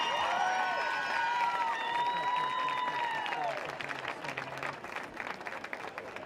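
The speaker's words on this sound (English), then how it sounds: "let's give one more round of applause for our graduating seniors of the class of 2020." A crowd in the stands at a high school varsity football game applauds the graduating seniors of the class of 2020, a broad wash of clapping and cheering that grows in the second half after some sustained tonal sounds at the start.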